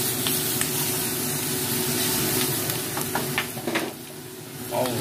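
Stir-frying in a wok with onion, a dense loud sizzle and hiss throughout, with scattered metallic scraping strokes toward the end and a brief dip in level before the frying swells again.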